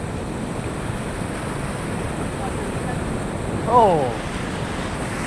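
Steady broadband rush of a swollen river's water runs throughout at moderate loudness, with a brief exclamation from a voice near the end.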